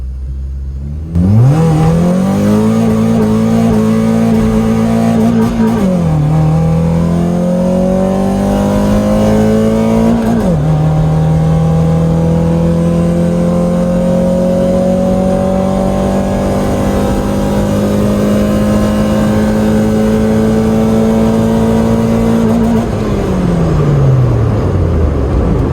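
A 2000 Honda Civic accelerates hard through the gears, its engine note climbing steadily, dropping at each upshift near six and ten seconds, then holding a loud sustained drone before easing off at the end, close and without speech.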